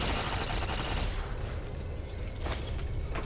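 Gun turrets in a video game fire a dense, loud rattling burst for about a second, then the barrage thins to a quieter, scattered clatter with a brief flare near the end.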